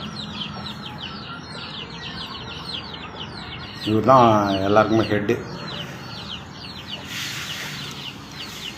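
Chickens cluck and chirp in a busy, rhythmic chatter, then a cross-breed rooster gives a loud, drawn-out call close by; someone talks briefly.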